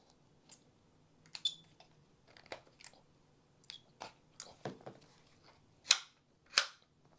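Metal punch pushing out tight takedown pins of an IWI Tavor X95 rifle, a series of faint scattered clicks and scrapes ending in two sharper metallic snaps.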